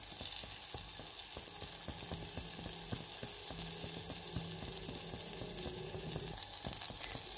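A pan sizzles steadily with butter and olive oil, a continuous close frying hiss broken by small clicks and scrapes of stirring, no voices.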